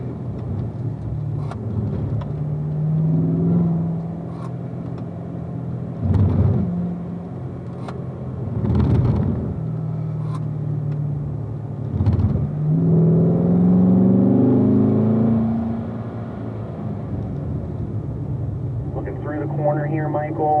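A Corvette at a driving school circles a coned track, its engine droning steadily and rising in several revving surges through the gears, heard from inside the car while an instructor talks throughout.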